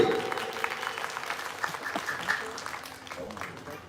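An audience at a sports club award ceremony claps steadily for two senior cricket players, a dense, fairly distant patter of many hands that gradually fades.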